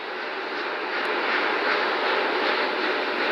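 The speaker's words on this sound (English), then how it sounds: "The 4 core stage RS-25 engines gimbaling around, testing the ability to steer the rocket into space." The four RS-25 core stage engines of the Artemis I rocket thunder in a continuous, dense, loud roar, steady and unbroken, with no voices.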